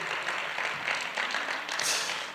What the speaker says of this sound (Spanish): vamos a darle un fuerte aplauso a Claudia